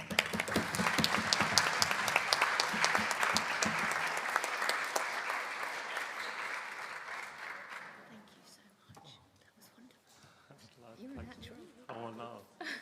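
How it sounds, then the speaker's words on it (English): Awardees at a healthcare technology conference receive a large audience's applause and cheering, loud sustained clapping that fades out over about eight seconds before voices take over. "the most massive cheer, applause and stamping of feet for our awardees"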